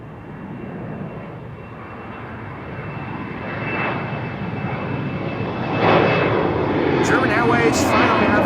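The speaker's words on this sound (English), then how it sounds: "Embraer 190 to London City" An Embraer 190 jet roars on takeoff from Schiphol's Kaagbaan runway 24, a steady broad engine rumble that swells louder near the end, with a voice talking over it.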